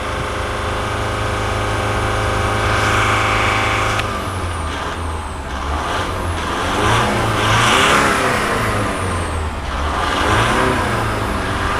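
A diesel car engine revved and held at about 3,000 rpm during exhaust pipe cleaning, a loud sustained drone that holds steady, dips briefly and swells again, with no talking.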